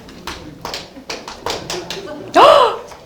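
An audience claps five times in a quick, loud, rhythmic burst, with short gaps between the claps and a brief vocal cry rising over the last one.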